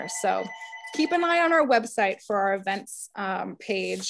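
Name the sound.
telephone ringing in the background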